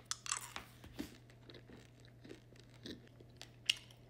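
Anti-binge gum is chewed close to the mic, with faint, irregular wet crunching and smacking bites over a low steady hum and no talking.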